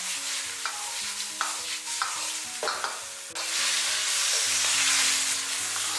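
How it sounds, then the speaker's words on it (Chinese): Bitter melon, wood ear and red pepper slices being stir-fried in a hot wok, quick spatula tosses and scrapes over a loud sizzle that swells into a strong, continuous hiss. "把切好的红椒片也加进来，然后快速的给它翻炒"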